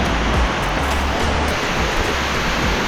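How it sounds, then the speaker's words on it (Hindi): Heavy rain pours with rushing floodwater on a mountain path near Vaishno Devi, a dense, loud, continuous roar of hiss and splashing water with no voices. "बहुत ज़्यादा तेज बारिश हो रही है"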